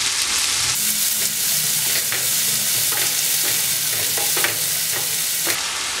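Sweet and spicy guava pickle sizzles and fries in a pan while a spoon stirs it, scraping in repeated strokes over a steady close-up crackle.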